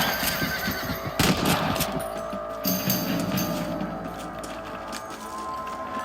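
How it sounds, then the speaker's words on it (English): Gunshots ring out in the western game Red Dead Redemption while rabbits are shot on the range; a couple of loud cracks stand out early over a steady bed of background ambience. "You're better at shooting rabbits than outlaws, I see."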